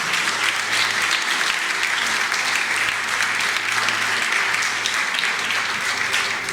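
Church congregation applauding loudly during a worship service, dense steady clapping from many people that fills the whole stretch without pause.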